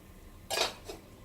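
A lid clanks shut on an appam pan, one short metallic knock followed by a softer rattle as it settles, close in a quiet kitchen.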